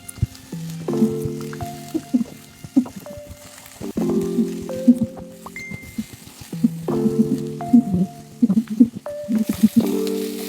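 Onions frying in a pan give a steady crackling sizzle with faint clinks, partly buried under loud, continuous music throughout.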